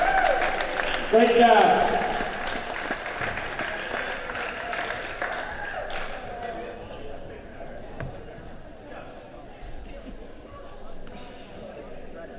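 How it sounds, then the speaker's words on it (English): A crowd at a high school wrestling meet claps for honored seniors, a loud burst early that fades into scattered clapping and gym noise while voices talk over it. "Please give a round of applause to our seniors and their families for their dedication to Jessup athletics."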